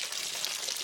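Water gushes rapidly out of a quarter-full rainwater harvesting tank in a steady, hissing pour with no break or talk.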